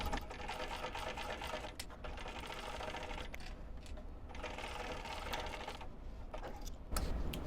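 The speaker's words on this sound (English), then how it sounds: "now I'm going to stitch this on as close to a 1/4 inch seam allowance as I can" A sewing machine stitches a quarter-inch seam on a zippered fabric pouch, running steadily up close with a fast mechanical whir and rapid needle clatter and a few brief pauses.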